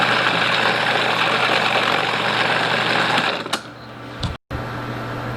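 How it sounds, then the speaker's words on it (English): Food processor whirring steadily as it mixes cheesecake batter, a loud continuous motor drone that stops after about three and a half seconds, leaving a few faint clicks. "Just going to give the food processor another nice mix so that everything's coming together nicely."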